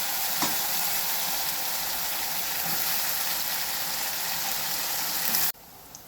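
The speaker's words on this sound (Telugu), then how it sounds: "కాకరకాయ ఫ్రై అయిందండి" Bitter gourd with turmeric and salt frying in a pan, a dense, steady crackling sizzle heard close up that cuts off abruptly near the end, leaving quiet.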